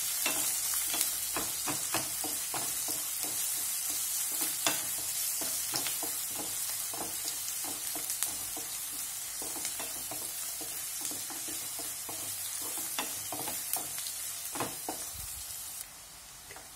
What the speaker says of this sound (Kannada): ಕಟ್ ಮಾಡಿಟ್ಟ ಈರುಳ್ಳಿಯನ್ನು ಹಾಕ್ತೇನೆ. ಸ್ವಲ್ಪ ಚೆನ್ನಾಗಿ ಫ್ರೈ ಮಾಡಬೇಕು ಈರುಳ್ಳಿಯನ್ನು.